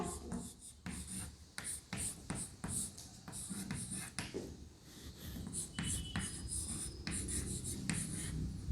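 Chalk or marker scratching steadily across a classroom board during a tenth-grade heredity lesson, a run of close, rhythmic strokes with short pauses between words.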